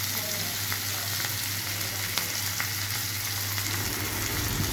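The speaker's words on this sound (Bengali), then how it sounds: "হওয়ার পরে এবার টমেটো কুচি, লঙ্কা কুচি দিয়ে দিলাম।" Chopped tomato and chilli frying in hot oil for a Bengali chicken curry, giving a steady, close, busy sizzle with faint stirring ticks and no talking.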